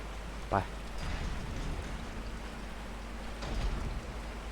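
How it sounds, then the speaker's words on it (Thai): Heavy rain in the video game Resident Evil 4 hisses steadily as a dense wash, with a deep rumble underneath and a brief clunk near the start. "ฝนตกหนักมาก"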